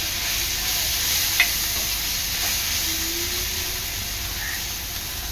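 Onions frying in a pan until reddish-brown, a steady broadband sizzle and hiss running alone and close throughout, with a faint clink near the start.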